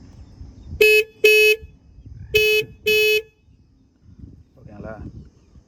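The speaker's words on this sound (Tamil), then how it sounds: "இப்போ இந்த வண்டியோட ஹார்ன் சவுண்ட் வந்து எப்படி இருக்குன்னு காட்டுறேன் பாருங்கள்." Horn of a Bajaj Avenger 160 motorcycle, four short loud toots in two pairs, followed by a brief spoken remark.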